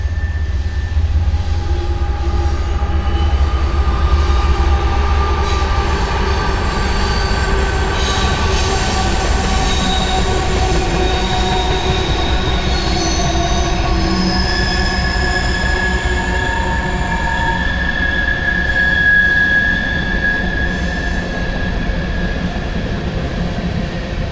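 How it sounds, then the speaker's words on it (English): A train rolls past loudly and steadily for a long stretch, its wheels squealing in sustained high metallic whines over a deep rumbling roar. "Train."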